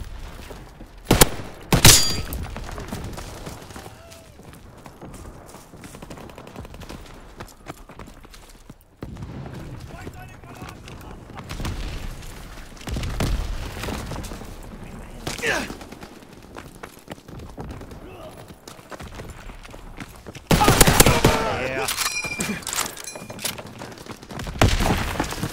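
Bursts of gunfire crack out in a World War II video game, loud volleys separated by quieter stretches, with voices talking between and over the shots.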